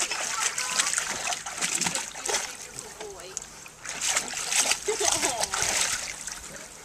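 Dogs splash and paddle in water, with choppy, irregular sloshing close by while people talk over it.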